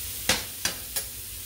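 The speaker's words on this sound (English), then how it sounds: "Let the sausage cook a little bit." Holmes garlic smoked sausage cooks in a pan under a soft, even sizzle, broken by three sharp, evenly spaced taps or pops, close and without talk.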